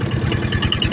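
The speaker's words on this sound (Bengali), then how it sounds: "আমাদের ট্রলার চলছে খুব ধীরে গতিতে।" A trawler's engine chugs slowly on a river in Sylhet's Lalakhal, a steady low, throbbing drone with a faint rhythmic pulse, close and continuous through the short stretch.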